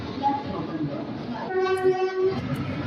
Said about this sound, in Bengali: ব্যান্ডেলের 4 নম্বর প্ল্যাটফর্মে ঢুকছে ব্ল্যাক ডায়মন্ড এক্সপ্রেস।